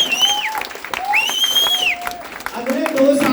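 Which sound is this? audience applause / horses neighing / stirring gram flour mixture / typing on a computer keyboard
audience applause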